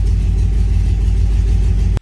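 A car engine fitted with a Holley Sniper EFI throttle body rumbles at a loud, steady idle close by, then cuts off abruptly into silence when it is shut down.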